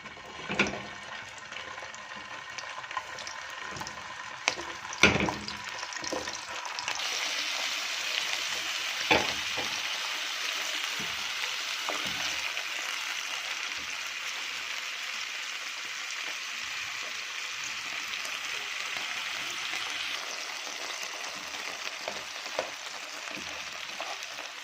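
Sausage frying in a pan of oil and ghee, a loud continuous close sizzle that swells as the meat goes in, with a few clanks and stirring knocks early on and no talking.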